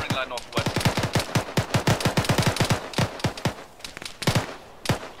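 Rapid automatic gunfire in the military shooter Arma 3, dense bursts of sharp cracks in quick succession with a few spaced single shots toward the end, loud and close.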